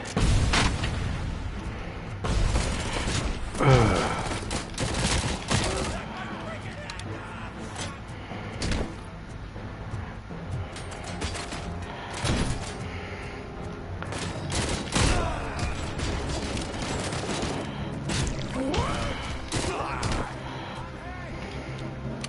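Assault rifle gunfire in the video game Robocop: Rogue City crackles in scattered bursts and volleys. Heavier booms and other game noise mix in at moderate loudness across the whole stretch.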